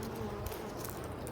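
A faint, steady buzzing of many honeybees in a hive during a solar eclipse, soft and continuous in the background.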